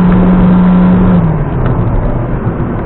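A Peugeot 206 X-Design 1.4 petrol automatic, not in sport mode, accelerating hard on smooth asphalt: a loud, steady engine drone with a rising tone that drops at a gear change, heard from inside the car with no talk.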